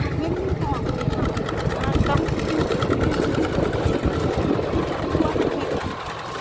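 A steady tractor engine drones continuously at close range, a low rumbling chug with people talking over it throughout.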